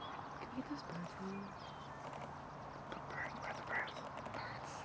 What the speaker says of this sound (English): Can we get those birds in?